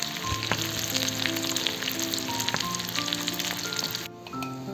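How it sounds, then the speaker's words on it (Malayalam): Curry leaves and small onions fry in hot oil with a steady, crackling sizzle. Quiet background music runs under it, and the sizzle thins out near the end. "കുറച്ച് കരിവേപ്പില, 1 പിടി ചെറിയ ഉള്ളി, ഇതൊന്ന് ലൈറ്റ് ബ്രൗൺ ആകുന്ന വരെ ഒന്ന് മൂപ്പിക്കുക."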